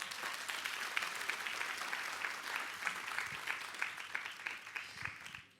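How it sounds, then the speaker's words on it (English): Audience applause at a business seminar, sustained clapping from a large crowd that holds steady and then tapers off at the end, heard at a distance. "Can we give Atomy a round of applause?"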